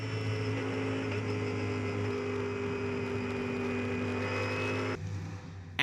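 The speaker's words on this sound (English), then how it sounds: "then saw a succession of cars go past" Race cars at Sepang during the Asian Le Mans Series 4 Hours stream past in steady succession, a loud continuous engine roar with rising and falling whine that drops off abruptly near the end.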